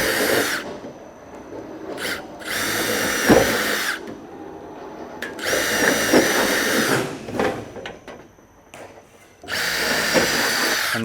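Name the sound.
power drill drilling holes in metal gutter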